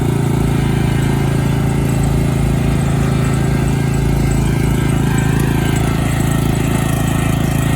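A 2000 Subaru Impreza 2.5RS engine, freshly rebuilt with new head gaskets and a manual swap, runs steadily just after its first start, a loud continuous rumble with an uneven low-end throb and no talking.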